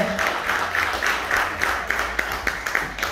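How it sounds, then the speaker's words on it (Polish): An audience applauds after a storytelling performance at a folk festival in Bukowina Tatrzańska, a dense, moderately loud wash of clapping with a few sharper claps standing out, steady for about three seconds. "Jeszcze raz wielkie, wielkie brawa przyklaśnijcie."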